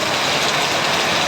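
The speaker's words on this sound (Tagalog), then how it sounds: "Patatlong araw na itong umulan, pero mas malakas ang ulan po ngayon." Heavy rain pouring down during days of flooding near a small canal and a shop, a dense, steady, loud hiss of water with no break.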